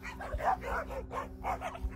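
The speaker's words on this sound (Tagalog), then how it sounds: "isa-isang nagtahulan yung mga aso" Several dogs bark one after another near a hut at night in a rural setting, a run of short yips and barks over about two seconds against low background hum.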